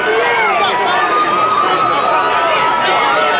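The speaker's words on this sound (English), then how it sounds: "This Glassboro crowd is into it." A Glassboro high school football crowd roars and cheers steadily at a South Jersey Group 1 final against Paulsboro, a loud continuous wash of voices with whistle-like tones riding on top.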